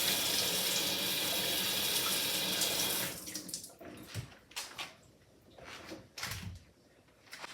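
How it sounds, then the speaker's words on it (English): Red potatoes rinsed under a running kitchen tap, a steady dense water rush for about three seconds, then quieter intermittent splashing and trickling as the potatoes are turned in the stream. "I'm just rinsing off some red potatoes, my favorite kind of potatoes."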